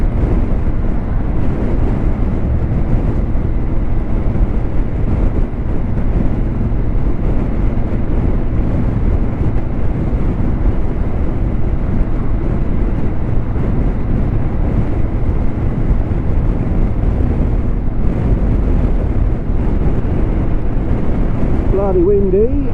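Strong wind roars over a motorcyclist's microphone while riding on a road, a loud, constant rushing buffet filling the whole stretch, with faint talk underneath.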